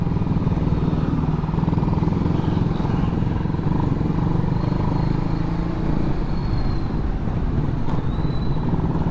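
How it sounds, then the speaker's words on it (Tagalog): A motorcycle engine in need of maintenance runs steadily nearby, a constant buzzing drone that holds an even pitch throughout, with faint road noise beneath it. "Parang naglalambing na yung motor natin."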